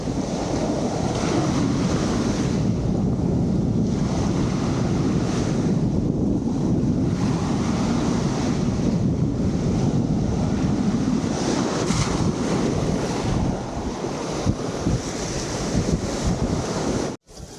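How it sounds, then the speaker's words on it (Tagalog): Heavy surf crashes continuously at high tide under gusty wind buffeting the microphone, a dense, loud wash of ocean noise with no voices. "Malakas ngayon. Oo, high tide."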